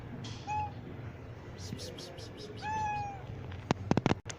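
A mother cat sheltering her four kittens lets out two drawn-out meows close by, followed by a burst of sharp clicks and knocks at the end.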